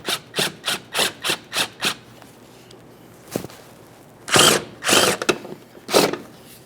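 10mm socket on an extension snugging fuel tank shield bolts on a 2013-2020 Ford Fusion 2.0L: a quick run of seven short ratcheting bursts, then a pause, a single click and a few longer, louder spins close by.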